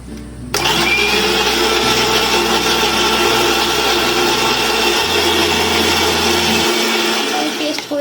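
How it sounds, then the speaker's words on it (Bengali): A mixer grinder blends chopped ripe mango pieces into a paste, a loud continuous motor whir with a dense churning roar that starts abruptly and runs steadily, shifting pitch slightly near the end. "টুকরো করে কেটে রাখা আমটা আমি মিক্সিতে দিয়ে ভালো করে পেস্ট করে নেব।"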